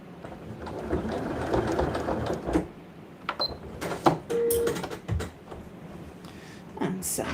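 A sewing machine stitches a fabric side pouch in bursts, a rapid mechanical whirr running for a couple of seconds, then shorter runs broken by pauses, soft clicks and handling noise.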